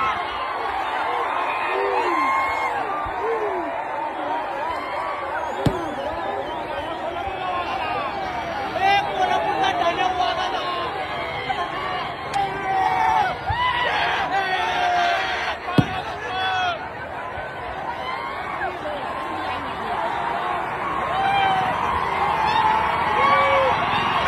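A large crowd at a Rahul Gandhi rally, gathered around his passing vehicles, cheers and chatters continuously in a dense outdoor hubbub with shouts and whistles rising above it.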